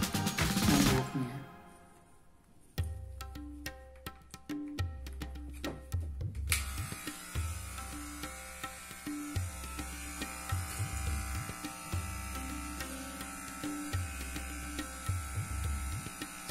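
Electric hair clippers buzz close up as they cut a boy's thick hair, a steady motor drone that rises and falls in repeated passes after a brief pause early on, with no talking.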